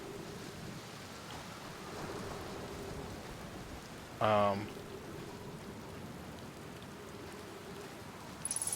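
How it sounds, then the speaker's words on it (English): Steady rain falling on a planet in the Outer Wilds video game, a soft continuous hiss throughout, with a brief louder burst midway and a short voiced word near the start. "The rain is kind of soothing me a little bit."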